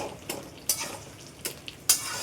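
A spoon or spatula stirs ginger paste into vegetables sizzling in a pan for a Bengali shukto with fish head, with four or five distinct scraping strokes against the pan over a soft frying hiss.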